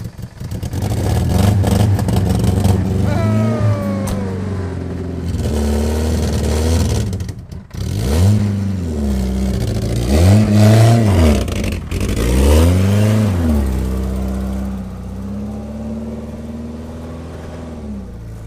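An abandoned 1991 Volvo 240 wagon engine, fed from a pressurized fuel canister, cranks and catches, then revs up and down in several rising and falling surges before settling to a rough idle, loud and close.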